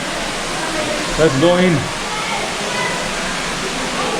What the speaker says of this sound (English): it's water flowing from the sky